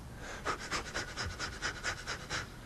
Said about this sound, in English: So I just started breathing really fast.